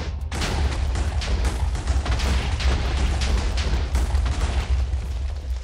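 TNT blows up a house in Minecraft, a continuous barrage of overlapping booms and crackling blasts that rumble heavily and loudly for several seconds without pause.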